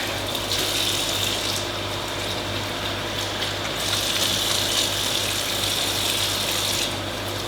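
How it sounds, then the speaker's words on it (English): Hands are washed under a running kitchen tap before baking Anzac biscuits. The water gushes in a steady, close, unbroken stream for the whole stretch, with no talking. "the first thing we're going to do is wash our hands"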